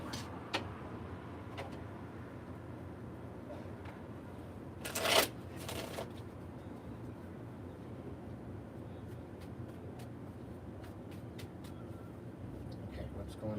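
A deck of tarot cards is shuffled during a live card reading, with a short burst of riffling near the middle over a steady low room hum and faint scattered ticks.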